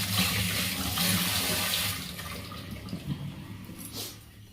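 Hands are washed under a running tap, with a steady rush of water splashing into a sink. The flow sounds close, then eases and tapers off near the end.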